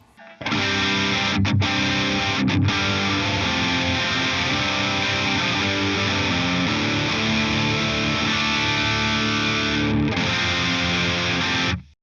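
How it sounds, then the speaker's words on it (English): Crunchy, overdriven electric guitar chords ring out with a classic vintage Marshall plexi-style amp growl from BIAS Desktop amp software, sustained and loud with a couple of brief breaks. "what is basically a plexi tone"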